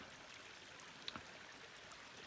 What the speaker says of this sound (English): a little bit of water flowing by